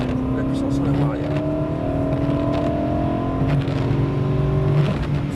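A BMW M3 E92 engine drones loudly from inside the car on a driving course. The tone holds steady, then climbs gradually as the throttle is fed back in, with a rich harmonic growl throughout.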